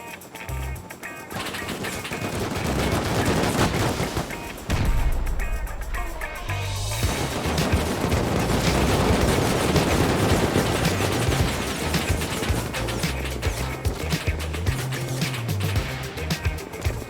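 HV rockets and gunfire in Rust during a minicopter intercept, a loud chaotic barrage of bursts, blasts and rattling shots that runs almost unbroken, with heavy low booms and crashes throughout.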